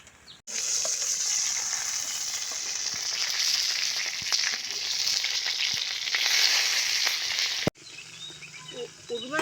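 Bhetki fish paturi wrapped in banana leaf fries on a low flame, a continuous close, bright sizzle with small pops that runs for several seconds, then cuts out before a softer, thinner frying resumes.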